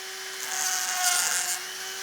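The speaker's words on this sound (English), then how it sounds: "We're going to turn the Dremel on." A Dremel rotary tool runs at a steady speed, a constant high whine holding for the whole stretch with a slight swell in the middle, close and uninterrupted.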